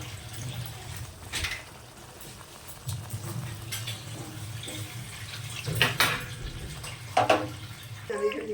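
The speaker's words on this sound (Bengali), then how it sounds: "এর মধ্যে এবার জল দিয়ে দেবো।" Water poured into a pan of fried spice masala for a snakehead (shol) fish curry, giving a close splashing, gurgling pour with a few louder bursts and clinks near the end.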